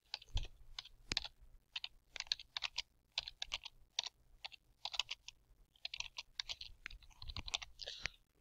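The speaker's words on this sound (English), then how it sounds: "We can type a memo for the customer here." Bursts of quick, crisp keystrokes on a computer keyboard as a memo is typed into invoicing software, with short pauses between the runs and no talk.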